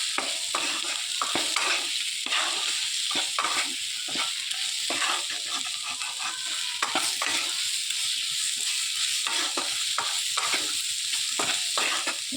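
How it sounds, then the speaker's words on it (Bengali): Potato and eggplant fry in a pan with salt and turmeric while a spoon stirs them, making repeated scraping strokes in a steady rhythm over a continuous sizzle. "দিয়ে আর একটু নেড়ে চেড়ে নেব"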